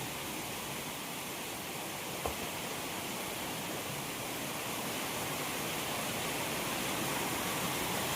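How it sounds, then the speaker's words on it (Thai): Heavy storm rain falls on green foliage outdoors as an even, unbroken wash of hissing noise, steady from start to finish, with no voices. "ฝนตกมากแรงมากเลยใบไม้เขียวชุ่มเลยนะครสิจ๋า"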